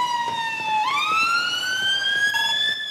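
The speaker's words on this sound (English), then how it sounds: "Can you turn these sirens off?" A video game police siren wails loudly and steadily, its pitch rising and holding in a long electronic tone, with faint clicks underneath.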